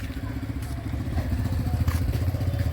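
A rented motorcycle idles and runs steadily nearby on a road trip from Rameswaram toward Tiruchirappalli, its low, continuous engine rumble carrying a faint mechanical clatter throughout.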